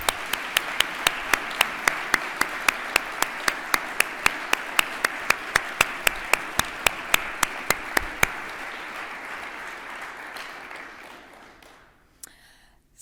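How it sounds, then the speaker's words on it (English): An audience at the 2022 TMS-AIME awards ceremony applauds steadily, with a sharp repeated clap standing out close by in even rhythm before the clapping thins and fades to quiet. "Please join me in giving them a round of applause."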